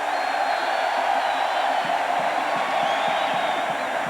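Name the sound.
stadium crowd applauding at a college football game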